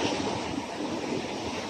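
Surf rolls in steadily along a scenic shoreline, a broad, continuous wash of breaking waves with wind buffeting the microphone, no voices.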